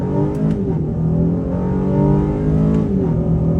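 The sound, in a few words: 2023 Honda Ridgeline accelerating in first gear, sport mode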